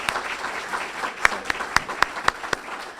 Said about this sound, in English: a round of applause for Dr. Greene.